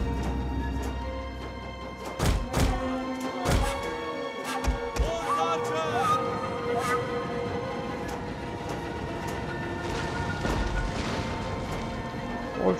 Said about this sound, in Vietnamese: Ôi pháo nó dã quá.